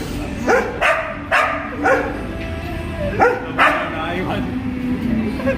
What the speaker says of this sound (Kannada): ಈ ಸೈಡ್ ಒಂಜಿ ನಾಯಿ ಉಂಟು